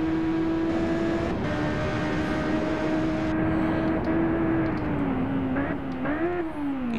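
Racing superbike engine from the Ride 1 video game on the North Valleys circuit, a steady high-pitched drone held near one pitch that drops and rises near the end, loud and continuous with faint voice underneath.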